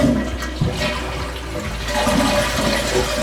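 Toilet flushing with a leaking, brittle or badly seated wax ring, a loud close rush of swirling water that drains steadily through a few seconds.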